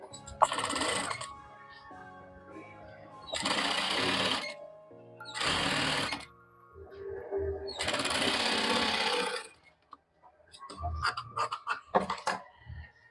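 A sewing machine stitches blouse fabric in several bursts of one to two seconds separated by pauses, with small handling clicks and rustles between the runs.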